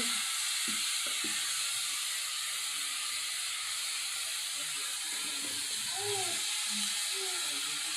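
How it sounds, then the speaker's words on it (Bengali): Leafy greens frying in a pan on a home stove give off a steady, fairly faint sizzle and hiss, with occasional stirring clinks and scrapes and a few soft background sounds. "শাক ভাজি হয়ে গেছে একদম কমপ্লিট"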